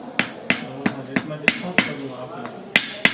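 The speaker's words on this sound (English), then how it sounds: "And after that I put these wire by hammer without any glue." Wire being hammered by hand into carved wood without glue, a series of sharp, close metallic taps at an uneven rhythm, about nine strikes in three seconds with short pauses between.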